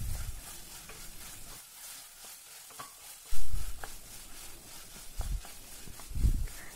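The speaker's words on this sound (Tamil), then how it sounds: "நல்லா மிக்ஸ் பண்ணிடுங்க, ஃப்ரை ஆகட்டும்." Vegetables with coriander and mint are stirred and fried in a pan, giving a steady sizzle broken by several scraping stirs close up, with no talk.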